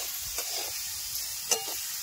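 Vegetables frying in oil give a steady, bright sizzle and hiss throughout, broken by a couple of soft stirring clinks.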